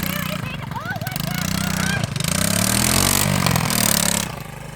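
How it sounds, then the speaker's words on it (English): A Honda ATC Big Red three-wheeler engine runs at a steady mid-pitched drone, with a shift in tone partway through as it changes gear. The engine stays close and loud, and a voice can be heard faintly over it. "I heard a gear change there."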